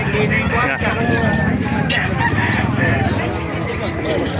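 A busy crowd of chickens clucking and roosters crowing at a poultry market in Calumpit, dense and noisy, with people talking over it throughout.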